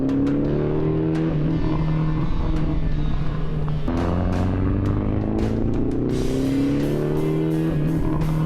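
A drift car on a cone course accelerates hard with a loud, close engine roar that climbs in pitch, drops briefly at a gear change, then builds again.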